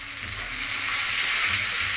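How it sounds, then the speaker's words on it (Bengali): Chopped onions sizzle steadily in hot oil with cumin seeds and bay leaf, a close, even frying hiss with no talk. "পেঁয়াজটাকে লাল লাল করে ভাজে।"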